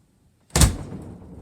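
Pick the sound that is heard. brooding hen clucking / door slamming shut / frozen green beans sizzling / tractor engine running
door slamming shut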